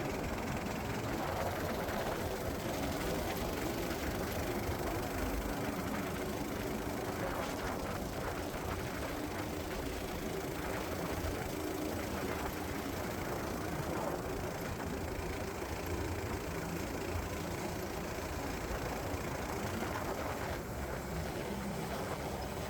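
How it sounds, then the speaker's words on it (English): A custom-built gasoline/electric hybrid vehicle's gasoline engine runs steadily throughout with a continuous mid-range drone, heard from close by with road and wind noise, occasionally straining as the throttle changes. "occasionally you can hear the engine struggle, and that's because I'm playing around with the engine throttle"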